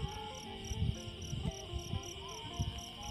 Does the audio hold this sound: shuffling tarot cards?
no